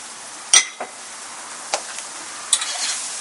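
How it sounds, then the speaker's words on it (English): Onions sautéing with salt in a pan, a steady low sizzle broken by a few sharp clinks and scrapes of a utensil against the pan, close up with no talking. "these are sauteing up real nice"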